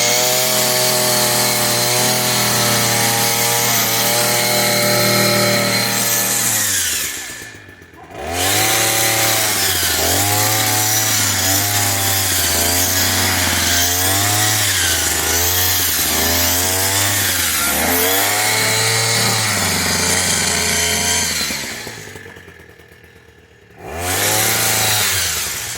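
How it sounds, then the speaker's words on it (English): A Proyama 5 in 1 multi-function hedge trimmer cuts outdoors with a loud, close motor whine that rises and falls as it bites, stopping briefly twice before revving back up. "so I kind of like the PROYAMA hedge trimmer"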